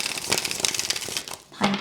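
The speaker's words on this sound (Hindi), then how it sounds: "शफल करते हैं।" Tarot cards being shuffled, soft papery riffling and crinkling in quick uneven bursts, close and fairly quiet, with no talking.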